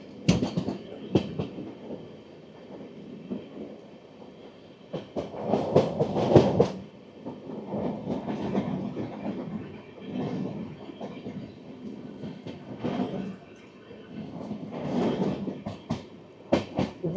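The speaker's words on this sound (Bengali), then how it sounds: "শিয়ালদা সাবরুম কাঞ্চনজঙ্ঘা এক্সপ্রেস ছুটে চলেছে বর্ধমানের পথে" Sealdah–Sabroom Kanchanjunga Express running toward Bardhaman beneath a highway, a steady rolling rumble broken by louder rhythmic bursts of wheel clatter across the rail joints, with no talking.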